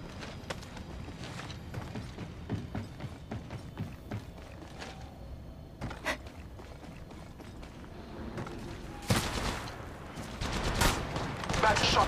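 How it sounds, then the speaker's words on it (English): Gunfire from the mobile battle-royale game Apex Legends Mobile, heard as rapid bursts and single shots with mechanical clicks, growing louder near the end, under the game's voice callouts. "Bad shots fired at me."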